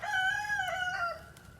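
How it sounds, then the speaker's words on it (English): A rooster crows loudly and close by in a single drawn-out call, with chickens around it and no talking. "Y'all hear my chickens, don't you?"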